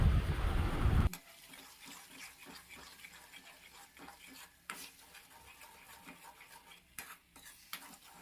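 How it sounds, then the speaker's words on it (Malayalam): Beaten egg poured into a hot pan is stirred with a utensil, giving soft intermittent scrapes and clinks over a low sizzle after a brief louder burst at the start. "ഇനി അതൊന്ന് നന്നായിട്ടൊന്ന് ഇളക്കി കൊടുത്ത് മിക്സാക്കി കൊടുക്കുന്നുണ്ട് കേട്ടോ"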